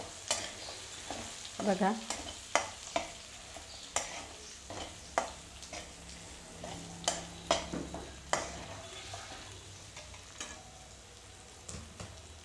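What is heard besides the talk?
sabudana khichadi ingredients frying and stirred in oil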